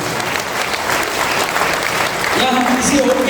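An audience claps steadily at a motivational gathering, with loud, dense applause filling the clip and a few voices or tones emerging near the end.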